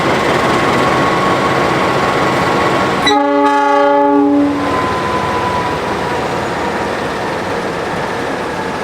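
Brawijaya passenger train under way, its loud steady rolling rumble broken by one long, strong multi-tone horn blast lasting about two seconds, then the running noise carrying on.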